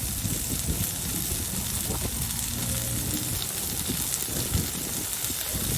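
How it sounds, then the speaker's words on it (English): A thick tomahawk steak sears hard on a hot grill, giving a loud, dense, unbroken sizzle like heavy rain that fills the whole stretch with close crackling. "we are going to give it a nice hard sear on both sides"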